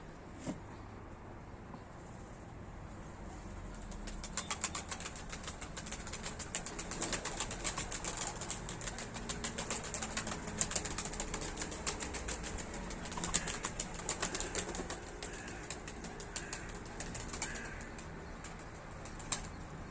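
Turkish tumbler pigeons flap their wings in flight, a rapid, rustling flutter that swells and holds steady at close range with no voices.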